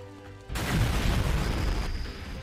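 A fire spell detonates in the Morrowind video game, a sudden loud boom that swells into a sustained roaring, crackling blast lasting about two seconds before easing off slightly.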